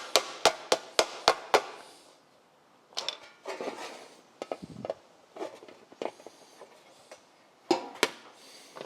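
A soft aluminum inner stone guard for an MGA is hammered straight in a rapid run of six sharp metallic blows, then lighter taps and scraping handling, and a final pair of strikes.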